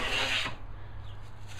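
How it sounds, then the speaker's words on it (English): A sharp, well-tuned hand plane takes one short, rasping stroke across a wooden plant stand piece. The stroke is close and fairly loud, then fades into a low steady hum. "So I got a lot of hand planing to do"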